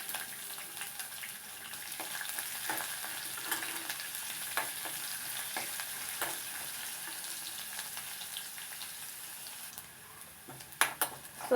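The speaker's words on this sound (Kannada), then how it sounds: "ಈಗ ಇದಕ್ಕೆ ಶುಂಠಿ ಮತ್ತು ಬೆಳ್ಳುಳ್ಳಿ ಏನು ಕಟ್ ಮಾಡಿ ಇಟ್ಕೊಂಡಿದ್ದೀವಿ ಅದನ್ನು ಕೂಡ ಹಾಕ್ತಾ ಇದ್ದೀನಿ" Chopped ginger and garlic frying in oil in a pan for dal tadka, a steady close sizzle lasting throughout with scattered crackles and a few louder scraping stirs near the end.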